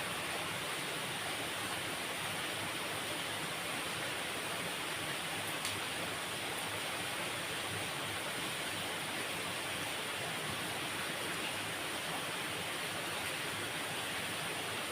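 A river rushes past a fishing spot on a bend, a constant broadband wash of flowing water, even and unbroken, with no one talking.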